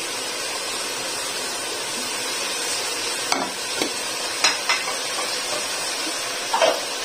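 Green coriander, green chilies and ginger frying in oil in a pan of cauliflower and chicken curry, a steady soft sizzle and hiss with a few sharp clinks and scrapes of stirring.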